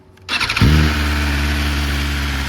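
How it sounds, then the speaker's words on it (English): A 2024 BMW S1000RR sport motorcycle with stock exhaust cranks briefly and catches, then settles into a loud, steady idle close by. "Let's turn the bike on."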